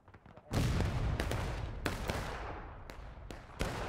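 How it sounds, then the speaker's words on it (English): Musket volleys in the Civil War game War of Rights on the Farmland map: a loud burst of gunfire opens, followed by several sharp scattered shots over a lingering rumbling din of battle. "independent fire, commence fire. Just shoot them down."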